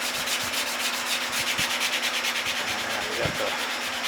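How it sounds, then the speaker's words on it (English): Steady, close rasping of sandpaper rubbing over a knife grip, a continuous dry scratch with faint rhythmic strokes and a few light knocks. "grip all sanded out real nice, fairly symmetrical"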